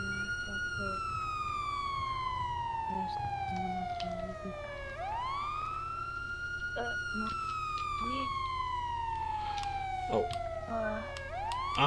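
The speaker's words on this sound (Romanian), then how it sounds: "Hai că nu-l aude sirena aia." An emergency vehicle siren, apparently from a video game, sweeps slowly down and back up in long wailing cycles at moderate volume, with people talking over it.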